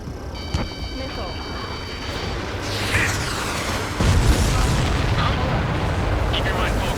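Missile explosions in the video game Ace Combat 7 boom over a constant roaring jet cockpit background. A sharp blast lands early, and heavier rumbling detonations build toward the end, with radio voices talking over the action.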